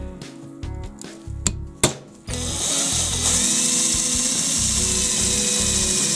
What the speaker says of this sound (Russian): Проще взять тонкое сверло и просверлить отверстие на нужном расстоянии в уголке.